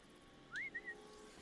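A single rising whistle from Horizon Zero Dawn, followed by two short quick tones, clear and moderately loud over a quiet background.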